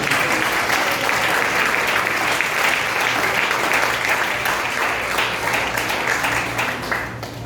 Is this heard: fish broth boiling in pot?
no